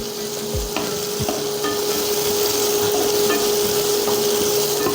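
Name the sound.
chopped onions frying and being stirred in a wok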